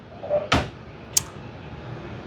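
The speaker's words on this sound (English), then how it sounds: "I'm going to put the cell counter back in the drawer." A drawer in a lab cell-counting station thuds shut after a cell counter is put away, followed by a second sharper knock, two brief close sounds over a quiet room background.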